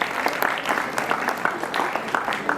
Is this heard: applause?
yes